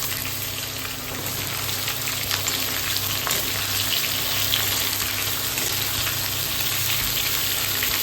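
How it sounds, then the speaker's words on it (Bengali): Vegetables for pumpkin-greens chorchori frying in a kadai as they are stirred, a loud continuous sizzle with scattered crackles and scraping, close and with no talk over it. "সবজিটা একটু ভেজে নেব নাড়াচাড়া করে"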